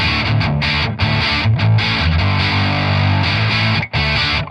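A heavily overdriven electric guitar played through a Line 6 Helix blended amp preset chugs loud and thick, with palm-muted chords, brief stops and a near-metal distorted crunch.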